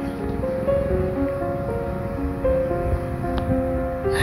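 Steady wash of surf and wind with a constant low roar, while a droning engine-like tone and wind buffeting ride over it.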